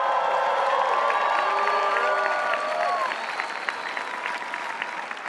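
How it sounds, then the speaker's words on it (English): Audience at the Carnegie Mellon University commencement ceremony gives a round of applause mixed with cheers and whoops. It is full and steady at first, then gradually thins and softens toward the end. "And one more round of applause."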